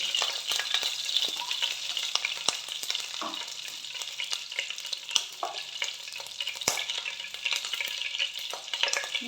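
Ghee sizzles steadily in a kadai over a medium flame, making a close, continuous bright hiss with occasional small pops and spoon scrapes and no voices.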